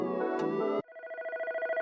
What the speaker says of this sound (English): Oh, fucking phone call from the boss.